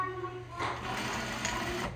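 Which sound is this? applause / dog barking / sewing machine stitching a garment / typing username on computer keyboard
sewing machine stitching a garment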